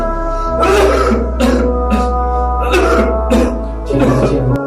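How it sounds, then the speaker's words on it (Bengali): A person coughs loudly and deliberately for a doctor, about five forceful, evenly spaced coughs up close over a low steady hum. "জোরে জোরে একটু কাফ দেবো।"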